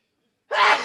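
A single sharp, close sneeze bursts out suddenly after silence, loud and breathy.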